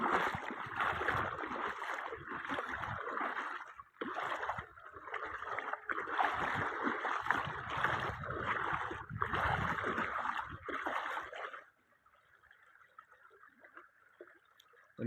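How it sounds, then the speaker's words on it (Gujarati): Water rushes fast into Mokeshwar Dam near Ambaji in a loud, continuous broadband roar that cuts off abruptly near the end, leaving a faint steady hiss. "તમે જોઈ શકો છો કેટલી સ્પીડમાં પાણી આવે છે"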